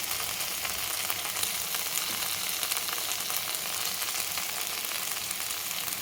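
Brinjal curry with urad dal spice powder fries in a pan, giving a dense, steady sizzle that continues unbroken at close range with no speech.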